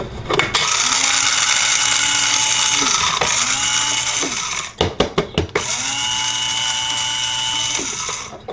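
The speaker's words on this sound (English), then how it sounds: "We're going to go ahead and put that into the grinder." An electric coffee grinder works through a very small quantity of coffee beans in several loud, high whirring bursts, with a brief cluster of clattering taps midway between runs.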